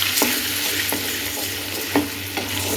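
Tomatoes and chutney ingredients sizzle steadily in a hot pan, close up and loud, while a spoon scrapes through them in a few sharp strokes.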